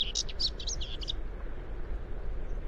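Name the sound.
song of a common whitethroat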